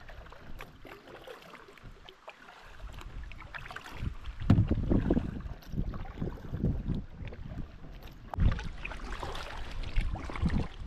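Paddle strokes from a solo canoe on a lake at Point Grondine Park, with irregular splashes and water swishes. Wind buffets the microphone at times, and no one speaks.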